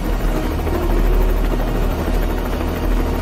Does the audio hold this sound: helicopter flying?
yes